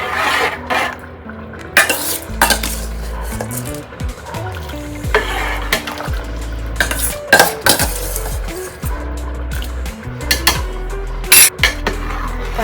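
Rice being mixed in a pot for dum biryani: loud metal ladle scrapes and clanks against the pot at an uneven pace over a bubbling, sizzling bed, close up, lasting throughout with no speech.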